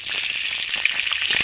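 Chopped ginger and green chillies frying in hot oil, giving a steady bright sizzle with faint crackles throughout, close and even, with no voices.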